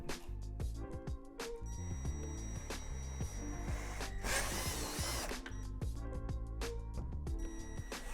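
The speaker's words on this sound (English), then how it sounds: "Drill them out with a 3/8 drill bit." Loud power drill with a 3/8 inch bit drilling holes in swing set parts, whirring in repeated bursts, with clunks and mechanical noise between runs and one longer, harsher grinding stretch near the middle.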